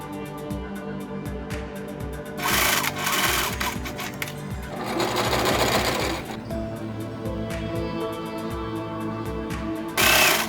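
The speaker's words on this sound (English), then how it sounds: "all that's left is to sew the bottom piece, which can be easily done by just simply lifting this and sewing across here" A sewing machine stitches across the bottom piece of a 1967 Courrèges-style mod dress, close and steady, with rapid mechanical rattling and a few faster, louder bursts of stitching.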